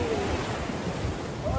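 Sea waves wash at a beach resort, a constant rushing surf buffeted by strong wind noise on the microphone, close and steady.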